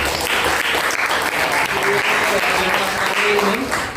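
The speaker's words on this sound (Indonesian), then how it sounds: "boleh tepuk aplaus dulu untuk kita semua" Applause from a class after a student presentation, steady dense clapping filling the whole stretch at close range, with faint voices mixed in.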